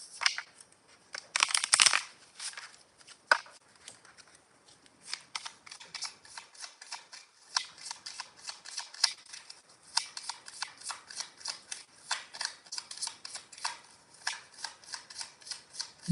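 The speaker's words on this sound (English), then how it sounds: "shuffle our deck." A deck of tarot cards being shuffled during a live reading: soft papery riffles and slides in irregular bursts with brief pauses, close and quiet, with no talk.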